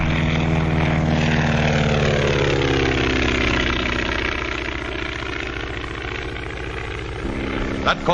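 A 1935 skywriting airplane's propeller engine drones loudly and continuously as it performs loops and Immelman turns, the pitch slowly shifting with the maneuvers and briefly interrupted by a short knock near the end.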